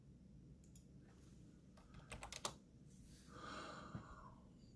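Computer keyboard typing during an online precalculus lesson, a faint scatter of quick key clicks in two short clusters over low background noise, with some soft breathing.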